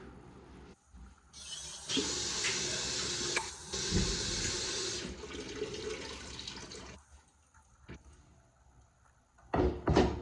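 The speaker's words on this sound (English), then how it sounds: "Let me rinse this spoon." Tap water runs into a kitchen sink as a spoon is rinsed, a steady close rush lasting several seconds, then tapering off into a few clinks and splashes.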